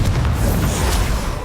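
A Confringo fire spell detonates in the Hogwarts Legacy video game, a single heavy boom whose low rumble swells at once and then rolls off over about a second and a half.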